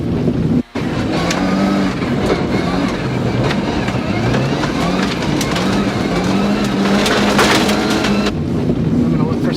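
A Ford Focus RS rally car drives hard, the engine loud and rising and falling through gear changes with wind buffeting throughout, and a brief cut early on.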